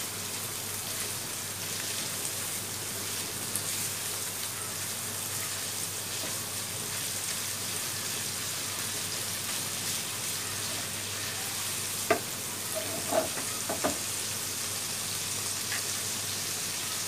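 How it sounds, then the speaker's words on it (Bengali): Chicken pieces fry in a pan for restaurant-style chicken fried rice, a faint, even hiss like light rain running throughout, with a few brief clinks and scrapes of stirring near the end. "এবার মাংসটা দিয়ে দিব, মাংসটা দিয়ে আমরা নাড়তে থাকবো।"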